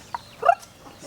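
Chickens on a spice farm in Zanzibar give a few short, close clucks and gobbling calls in a quiet outdoor setting, with one louder burst in the middle.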